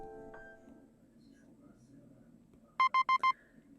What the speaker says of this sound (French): Le rugissement de la sonnerie me réveille.